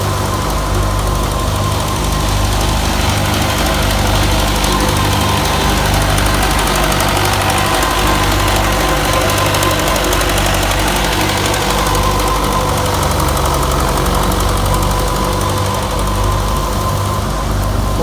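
A Belarus 510 tractor drives a wheat thresher, making a loud, steady mechanical drone with a rhythmic knocking throb that runs unbroken from start to finish, with no talk.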